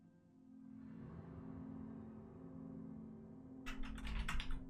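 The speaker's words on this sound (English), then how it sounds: "Sorry about the typing." Fast clattering keystrokes on a computer keyboard come in a quick burst near the end, over a low steady hum in a quiet room.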